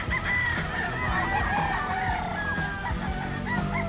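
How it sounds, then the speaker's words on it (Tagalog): Tornado Dome gamefowl stags crow and cluck loudly and continuously, several overlapping rooster calls rising and falling over a dense barnyard background. "So napakagandang mga manok din ito"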